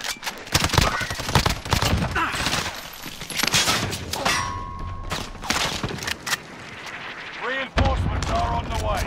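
Rapid bursts of video game gunfire crackle throughout a multiplayer shooter match, dense and loud, with occasional single shots and mechanical clatter layered over game voice chatter and talk.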